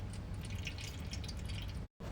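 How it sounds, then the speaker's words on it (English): Water is released through a tube inserted into a fitting, giving a short burst of close, rapid dripping and trickling over a low hum, with a brief cut near the end. "Then the water is released."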